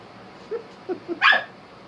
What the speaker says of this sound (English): It's his little baby bark.